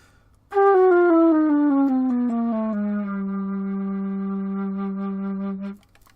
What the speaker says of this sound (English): now if I play the same C chromatic scale descending on the alto flute